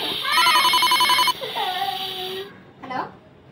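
A phone's electronic ringtone plays loudly with a repeating melodic pattern for about a second, then voices talk over the fading ring.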